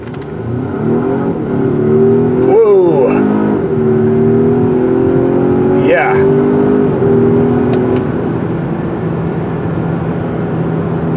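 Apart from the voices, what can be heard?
2024 Volvo S90 Recharge car accelerating hard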